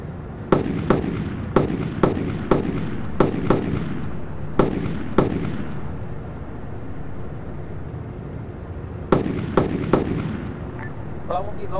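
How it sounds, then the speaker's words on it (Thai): Rapid gunshots from Arma 3 combat crack in short bursts of two and three, loud and close, separated by a few seconds of low rumbling ambience; a voice talks faintly underneath. "เขายังยิงหาโมอยู่นะ"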